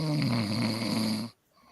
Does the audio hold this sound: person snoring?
yes